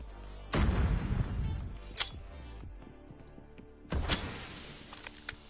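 A grenade thrown in the mobile shooter Scarfall, heard as two sharp heavy booms a few seconds apart with short clanking rattles and echoing tails, no voices.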